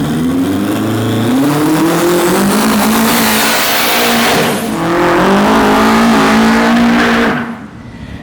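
A 1200-horsepower Honda S2000 drag car revs hard and loud, its engine note climbing and holding in long aggressive sweeps with choppy roughness, then cutting off abruptly near the end.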